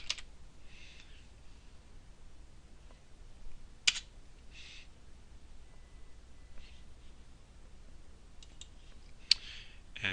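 Short bursts of typing on a computer keyboard while entering a map label, quiet close clicks scattered in small clusters with a couple of sharper taps, no speech.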